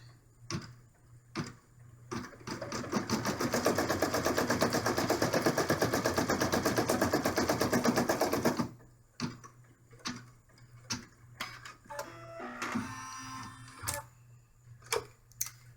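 An embroidery machine stitches yellow felt held in the hoop, a fast, even mechanical rattle running for several seconds before stopping, followed by scattered quieter clicks and ticks of the machine at rest.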